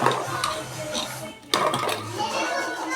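A spoon scrapes and clanks against a metal pot while masala is stirred into mutton curry, giving intermittent clinks and scraping close by under a voice and someone talking.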